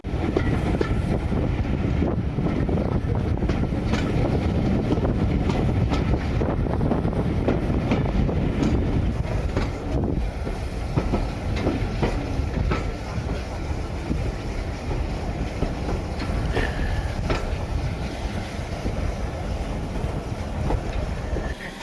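A Stanier Mogul steam locomotive rumbles at Kidderminster on the Severn Valley Railway during a winter steam gala, a steady loud mechanical roar with wind buffeting the microphone throughout.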